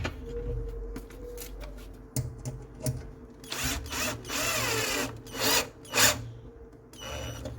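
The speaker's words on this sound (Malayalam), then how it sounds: "ഇനി നമ്മളിത് സ്ക്രൂ ചെയ്ത് കൊടുക്കുകയാണ്." A power drill drives screws into a wall-mounted foldable study table, with short whirring bursts broken by clicks and handling knocks, close by and with no talk.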